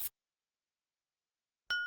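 A notification bell sound effect rings once, a clean bright ding that starts sharply and rings on briefly, heard alone after a short blip and then near silence.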